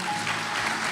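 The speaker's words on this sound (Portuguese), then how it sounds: "dê um aplauso ao Senhor" A congregation claps together during a church service at Comunidade Cristã de Curitiba, a dense, loud burst of applause lasting about a second.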